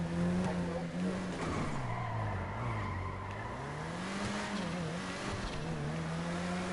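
A fast car in the video game GTA 5 revs and accelerates, its engine tone rising and falling with tire squeal mixed in, loud and continuous with no talking.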